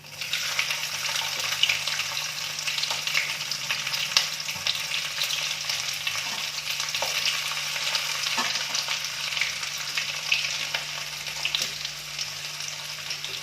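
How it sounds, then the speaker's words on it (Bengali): Chopped garlic sizzles and fries in a pan during village-style cooking of periwinkle snails, a steady close crackling hiss lasting throughout with no talking. "এবার আমি দিয়ে দেবো একটা বিগ সাইজ"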